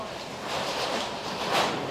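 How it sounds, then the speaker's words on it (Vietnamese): River water sloshing and splashing against a ferry crossing toward Wat Arun in Bangkok, a steady broadband wash with wind noise and a brief louder splash near the end, no voices. "Là kiểu cái sóng nó cứ đập vào ấy."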